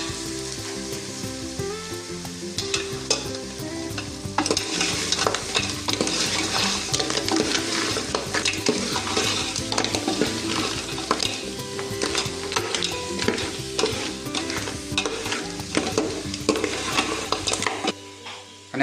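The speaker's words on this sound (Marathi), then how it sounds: "हे एकदा परत आणि एकदा आपण असं हे परतून घ्यायचं आहे." Crab pieces for a Malvani crab curry are stirred and fried in a pan, giving a steady close sizzle with repeated scraping and clinking of a spoon against the pot throughout.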